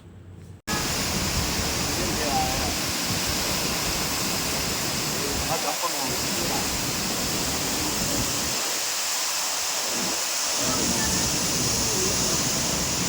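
Steady broadband rush of the Marmala waterfall, reached after a short trek near Vagamon, a constant loud roar that fills the whole clip with no voices over it.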